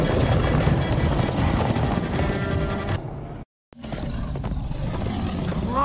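Heavy horse hooves from the video game Minecraft Story Mode pound rapidly in a dense, loud galloping rush, with a brief cutout of silence before the thundering resumes.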